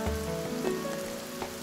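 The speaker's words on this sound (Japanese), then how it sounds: "急に雨が降ってきたわね。" Rain falls in the Princess Connect Re:Dive video game as a faint, steady patter with soft drop sounds under a light musical tone, no voices.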